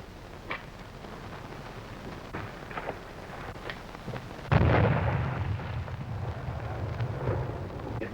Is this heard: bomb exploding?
yes